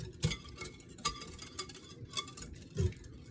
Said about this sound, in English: Whisk this up till we get some